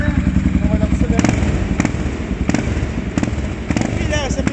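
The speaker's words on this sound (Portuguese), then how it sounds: "o próprio dono vai ligar a moto" A cold Honda Falcon motorcycle fitted with a Belparts aftermarket exhaust runs at a low, throbbing idle with sharp popping bursts from the pipe, close by, while people talk over it.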